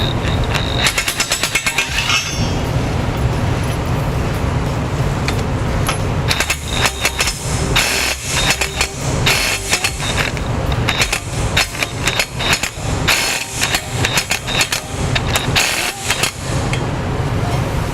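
A power tool tightening trailer hitch bolts on a 2017 Ford Explorer, loud rapid hammering bursts repeating through most of the stretch with brief pauses between runs.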